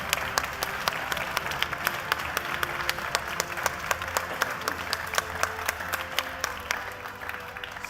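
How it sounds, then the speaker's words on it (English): A large crowd at a university science contest applauds steadily and loudly, with sharp individual claps standing out from the dense wash of clapping throughout. "all teams deserve an enormous round for applause"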